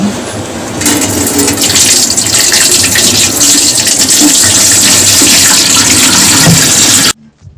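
Water pours steadily and loudly into the water pan of a steamer used for making white glutinous rice tape, a continuous gushing splash that runs for about seven seconds and then stops abruptly.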